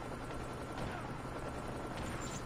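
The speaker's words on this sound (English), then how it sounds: "Hostile stealth chopper inbound." Hostile stealth chopper in Call of Duty Mobile, a steady whirring rotor drone mixed with distant gunfire crackle, constant and fairly loud throughout, with faint battle ambience.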